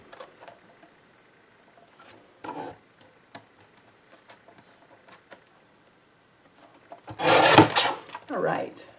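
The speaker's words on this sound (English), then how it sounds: "all I'm doing is just sticking this into my guillotine trimmer and trimming around it" A guillotine paper trimmer slices slowly through cardstock at a craft table, giving short scraping cuts with a louder rasping pass near the end, separated by soft handling taps.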